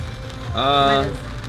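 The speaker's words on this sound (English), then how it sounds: "The rain's coming down." Steady rain pattering on a surface, heard from inside a car in Montreal with a soft continuous hiss, while a person speaks briefly over it.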